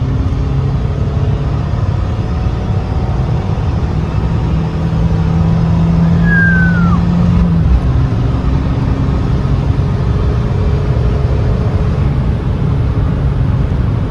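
Fiat 500 Abarth Stage 1 car accelerating, a steady loud engine rumble that holds throughout with a brief rising whine partway through, heard from inside or close by.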